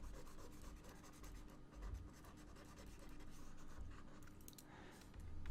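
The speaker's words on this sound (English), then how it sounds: "let me go ahead and erase everything." Steady rubbing and scraping of an eraser across a whiteboard during a programming lesson, continuous and close for several seconds with slight swells in intensity, and no talking.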